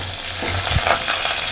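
Curry leaves sizzle in hot oil with fried onions, dried red chillies, mustard seeds, cumin and green chillies for an Andhra-style rasam tempering. A close, steady frying hiss runs throughout, with a brief stirring scrape near the middle.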